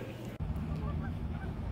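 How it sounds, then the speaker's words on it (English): Geese honk by the water, a few short nasal calls scattered over steady background noise at moderate distance, with no clear talking. "Look at all these geese."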